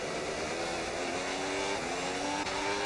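Race car engines in a racing game at the Hungary circuit, a steady dense roar as the cars pull out of a corner under rising revs, loud and continuous.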